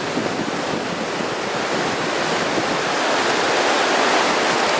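A muddy river of snowmelt rushes by in a loud, steady roar close to the microphone. The broad noise holds without a break and swells slightly toward the end, with no voices.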